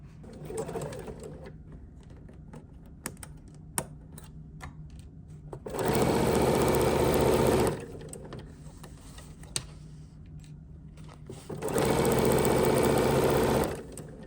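A sewing machine running a straight stitch around a fabric bag, two sustained bursts of steady whirring separated by quieter pauses with faint clicks and handling.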